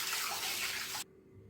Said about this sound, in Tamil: இப்போ இதை நல்லா தண்ணி விட்டு வாஷ் பண்ணிக்கலாம்.